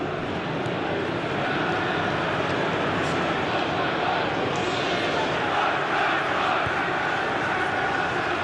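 A continuous stadium crowd roars and murmurs in a match from the video game Pro Evolution Soccer 2016, a dense, steady wash of noise without clear peaks.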